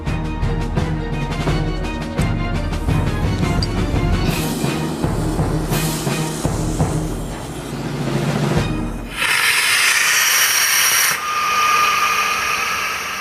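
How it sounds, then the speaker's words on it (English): Aircraft evacuation slide bag inflating with a rocket gas booster combined with compressed gas: a loud rumbling, rushing roar with rough textured churning, then a sudden switch to a bright, sustained hissing rush for the last few seconds. "I'm using the rocket gas as a booster and combining it with the compressed gas."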